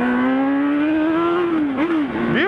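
Honda Hornet motorcycle with a modified aftermarket exhaust revving close by, a steady rising-and-falling engine note that climbs through the revs, dips, then flares again in a final sharp blip, with no talk over it.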